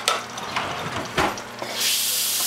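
Garlic hits hot oil in a chicken stir-fry and answers with a few quick sizzles and clatters, then swells into a steady, close hiss near the end.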